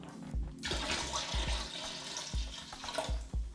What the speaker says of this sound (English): empty it into the toilet.